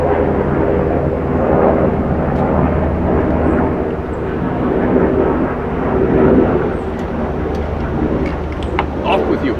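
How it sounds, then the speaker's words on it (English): A helicopter passes overhead, its broad, steady rotor and engine rumble swelling and easing while a person speaks over it. "Well, wait for the helicopter to go overhead."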